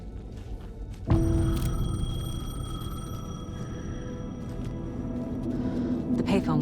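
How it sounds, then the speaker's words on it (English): Payphone in the video game Alan Wake 2 starts ringing suddenly after a low ambient hum, a loud sustained electronic ring carrying on for several seconds over a droning game soundscape. "The payphone was ringing."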